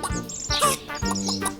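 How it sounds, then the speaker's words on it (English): Short bright crowing calls from a rooster in a children's story, several rising and falling notes in quick succession, close and fairly loud. "a rooster suddenly landed on Emily's head and began to crow"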